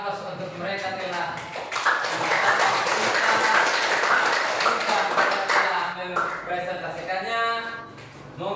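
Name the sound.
applause for a group after their presentation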